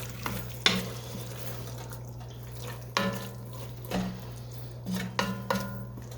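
A spoon stirs a pot of chili and scrapes browned bits from the bottom, a few distinct knocks and scrapes against the pot over a low steady hum, close and fairly quiet, no voices.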